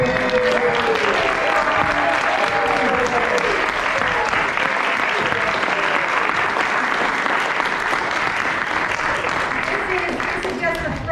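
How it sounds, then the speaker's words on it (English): An audience gives a sustained round of applause for recital performers, with dense clapping that holds steady throughout and a voice speaking over it early on. "You guys deserve a huge round of applause."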